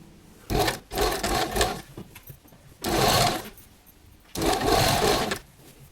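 A sewing machine stitches a party-wear girl's gown in three loud, close bursts of rapid whirring, separated by short pauses, with no voices.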